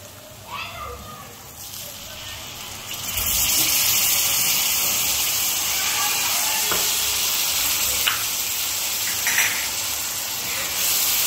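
Tomato puree made from two tomatoes hits hot frying masala for chole, and a sudden loud sizzle swells and holds steadily close by, with a few stirring scrapes and a voice talking lightly underneath.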